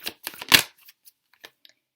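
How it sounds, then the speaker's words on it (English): Tarot cards being shuffled during a job and finance card reading, a quick burst of crisp riffling strokes followed by a few soft, sparse card taps, close and alone. "I don't know why I shuffled an extra card"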